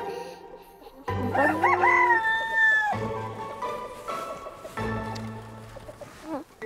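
A rooster crows loudly and close, its long wavering call repeated a couple of times over a quiet farmyard background.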